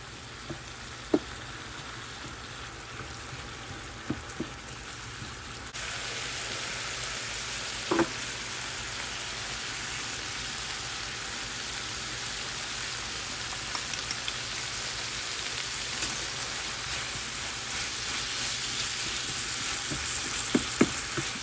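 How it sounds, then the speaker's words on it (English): Red wine vinegar deglazing a hot frying pan while being stirred, a steady broad sizzle that steps up louder partway through, with occasional scrapes and knocks of the utensil against the pan. "red wine vinegar. Just going to get that off the bottom for us. Stir it up a little bit."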